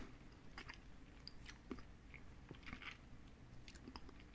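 Sticky gummy bear candies are chewed close to the microphone, giving soft, wet, tacky smacks and squelches at an irregular pace over a quiet background, with no speech.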